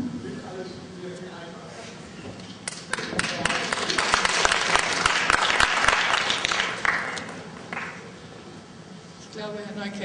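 An audience at a panel discussion breaks into applause, with dense clapping that swells for several seconds and then fades, set between stretches of a speaker talking.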